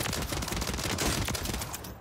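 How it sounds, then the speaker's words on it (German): Suppressed rifle fire in Warzone (Modern Warfare III), a dense, continuous run of muffled shots with no clear gaps between single rounds, loud and steady throughout with no talking. "man spielt die Waffe eigentlich immer im Einzelschussmodus und triggert dann"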